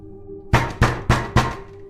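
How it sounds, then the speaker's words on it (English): Four heavy bangs on a door in a fairly even rhythm, loud and close with a slight ring after each blow, over a faint background hum. "they proceeded to bang on our door and yell at us"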